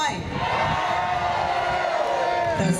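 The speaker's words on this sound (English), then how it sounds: "But I'll have a bigger cheer." A festival crowd at Alstock cheers and shouts in a sustained, loud roar that holds steady for a couple of seconds, with voices blending together.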